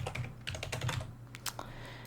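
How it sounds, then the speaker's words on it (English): Quick, irregular clacking of keys on a computer keyboard, close and crisp, with short pauses between bursts over a low steady hum. "hopefully these typing noises can give you some tingles"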